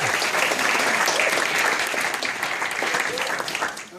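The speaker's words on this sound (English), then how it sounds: "Folks, round of applause." An audience at the Tamaki Village traditional song performance claps loudly and steadily throughout, a dense, even applause that tapers slightly at the very end.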